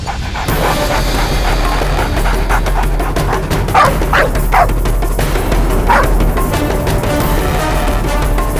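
A dog barks during the search of a car, giving several sharp yips and barks in a loose sequence. The barking sits over a constant loud hum of background noise and music, with no clear speech.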